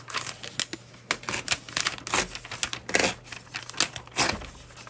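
Paper from a composition notebook being handled and torn, a string of crisp rustling, crinkling rips and page flicks in a quick irregular rhythm, close and fairly loud with no talking.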